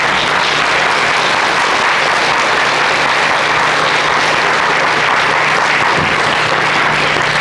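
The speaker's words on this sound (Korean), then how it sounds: "존경과 감사의 박수를 함께 보내주시면 감사하겠습니다" A large audience at a Korean Liberation Day ceremony gives sustained, loud, steady applause for several seconds, a dense wash of clapping with no voices on top.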